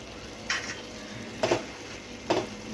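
Cooked moong vegetable being stirred with fresh coriander in a pan, three separate scraping stirs over a faint background sizzle, close and fairly quiet.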